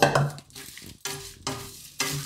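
Coconut roasting in a pan is stirred by hand, giving a few distinct scraping strokes at regular intervals over a soft sizzle, close and clear with no talking.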